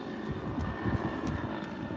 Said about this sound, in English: A helicopter going around in circles?